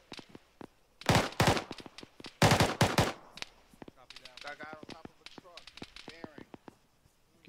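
Bursts of squad automatic and rifle fire in ArmA 3 combat, two loud sustained volleys early on, then scattered sharper shots continuing while radio voices talk over them.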